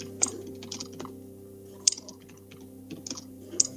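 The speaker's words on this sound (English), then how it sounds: "while Hannibal's typing her thing" Steady typing on a computer keyboard, soft key clicks with a few louder taps, over a low constant hum.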